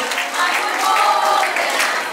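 An audience at a women's group gathering applauds loudly and steadily for a fasting devotee, the dense clapping continuing evenly throughout.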